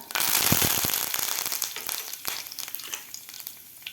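Curry leaves hit hot oil already crackling with mustard and cumin seeds, bursting into a loud, close sizzle with rapid pops and spatters that gradually settles into a quieter crackle.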